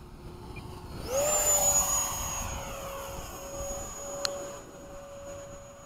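An 80mm Hawk RC model jet makes a low pass, its turbine whine swelling loudly as it sweeps close, then holding a steady high-pitched tone as it moves away.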